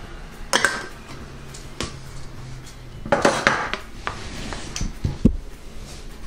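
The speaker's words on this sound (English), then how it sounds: "And we will start to scoop." Metal utensils clink against bowls and pans while scooping blueberry and cherry muffin batter, with scattered close scrapes and sharp clatters and no speech.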